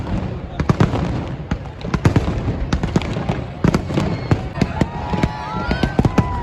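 Fireworks burst repeatedly at Somnath while a crowd waits for a political convoy, with dense, irregular sharp cracks and pops close by and an occasional rising whistle, and people talking underneath.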